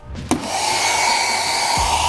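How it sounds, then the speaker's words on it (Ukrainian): A small 750 W travel hair dryer switches on with a click and runs with a steady, close whirring blow, powered by a portable power station. "Фен дорожній на 750 Вт добре працює і можна висушити волосся."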